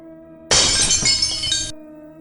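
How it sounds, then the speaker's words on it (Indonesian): A glass bottle shatters and splits in two in a single loud, sudden crash that spreads across the whole range, then rings and settles for about a second before cutting off, with no talk. "Botol itu terbelah menjadi 2 bagian."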